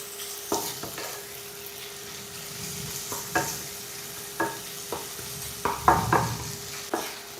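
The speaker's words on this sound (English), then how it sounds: "Saute until the minced pork is cooked." Minced pork and garlic sautéing in a pan, a low steady sizzle broken by repeated sharp scrapes and knocks of a spatula at an uneven rhythm.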